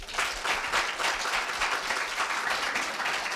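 An audience at a middle-school speech contest applauds after a student's speech, a dense, sustained wash of clapping from many hands throughout, steady and moderately loud.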